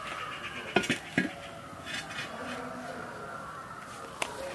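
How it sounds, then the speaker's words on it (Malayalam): Metal urli pot set down on a stove with a few sharp clanks and scrapes, then quieter handling knocks and a final clink, close by with no talking. "നമ്മൾ അടുപ്പിലായിട്ട് ഉരുളി വയ്ക്കാൻ പോവാണേ."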